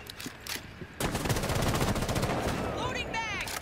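Rapid video-game gunfire booms in a steady, dense barrage, loud and close, with a couple of earlier single shots and laser-like chirps near the end.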